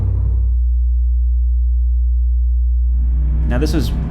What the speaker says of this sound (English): the best way I can describe it is like a 60 hertz hum that vibrates through the cabin